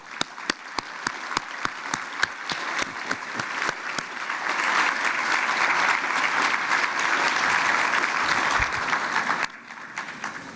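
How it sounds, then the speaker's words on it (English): Conference audience applauding at a plenary session on homelessness, starting with scattered distinct claps that quickly build into steady, full applause before cutting off abruptly. "So please stand and give them a round of applause."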